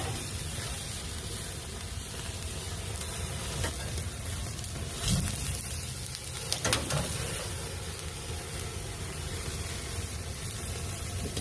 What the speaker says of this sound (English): Sear it on all sides.